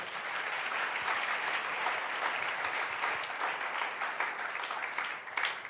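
Church congregation clapping continuously throughout a service, a dense, even patter of many hands at moderate distance.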